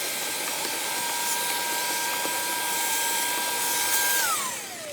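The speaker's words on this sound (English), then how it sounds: "we need to vacuum out that rat's nest or mouse nest that's in there" Shop vacuum sucking debris out of a mouse nest in a 2006 Toyota Camry cabin filter housing: a steady, loud airy whine with a constant tone that rises slightly, then drops in pitch as the motor winds down near the end.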